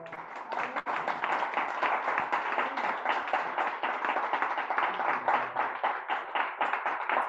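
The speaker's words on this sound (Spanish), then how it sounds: "Aplausos, por favor." Applause at a meeting, a small group clapping steadily and fairly close for several seconds with no talk over it.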